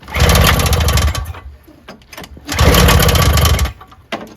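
A Toro CCR2000E single-stage snowblower with a 4.5 hp Suzuki two-stroke engine sputters to life after a pull, firing in two loud, buzzy bursts separated by a pause and ending in a short final cough.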